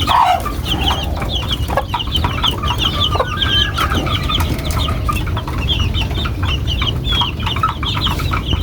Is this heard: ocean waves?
no